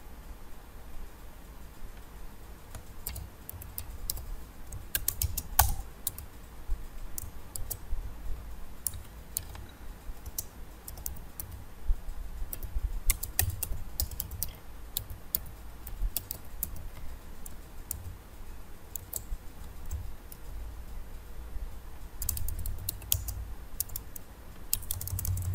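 Typing on a computer keyboard while writing an ASP file, close, steady bursts of key clicks with short pauses, continuing throughout against a faint background hiss.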